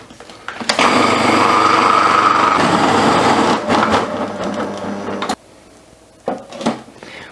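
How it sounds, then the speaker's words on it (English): Food processor grinding a heavy, thick vegan peanut butter brownie batter, a loud steady whirring that runs for several seconds, then cuts out, followed by a couple of short bursts. "my food processor has actually gone a little bit stuck here as it's processing this really heavy"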